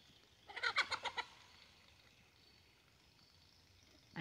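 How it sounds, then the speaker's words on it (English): A hen on a small farm in the woods, restless in her pen and about to lay an egg, gives a quick run of about six clucks, then falls quiet. "And you still got that hen trying to get out."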